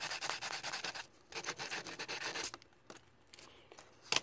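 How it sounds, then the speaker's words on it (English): Sandpaper rubbed hard against a Texas Instruments TI-108 calculator's plastic case and screen, a close, loud run of rapid scraping strokes that thins into a few lighter rubs near the end. "I'm gonna use some sandpaper to just sand as much of this as I can"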